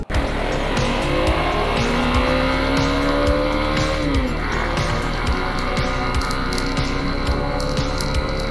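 Motorbike ridden along an open road near Uran, a loud steady engine drone with rising and falling pitch and constant wind and road noise close by.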